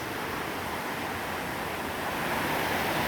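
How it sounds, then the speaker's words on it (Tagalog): Small waterfalls in the Sierra Madre mountains give off a steady, broadband rush of falling water, loud and constant for a few seconds with no voices. "At ang mga talon dito maliliit na rin."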